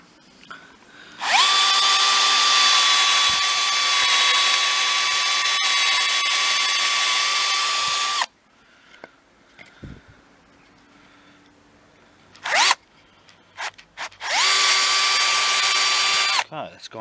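A Bosch PSB 1800 LI-2 cordless combi drill with a large bit bores into softwood in two loud, steady whining runs, separated by quiet handling noises and a brief burst.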